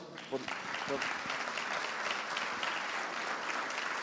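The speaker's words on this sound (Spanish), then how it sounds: "Un aplauso." A crowd at an academic seminar applauds steadily throughout, a broad wash of clapping from a large audience, with a voice briefly audible at the start.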